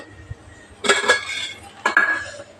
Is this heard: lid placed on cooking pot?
yes